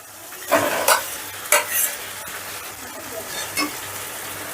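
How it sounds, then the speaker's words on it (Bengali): Fried pointed gourd (potol) is sautéed and stirred into cooking masala in a pan. A soft, steady sizzle runs throughout, broken by a few sharp spatula scrapes and stirs. "এবারে পটলটাও মশলার সঙ্গে 3-4 মিনিটের মতন কষে নেব"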